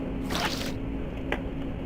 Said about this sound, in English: Oh, and then it spilled bloody water everywhere.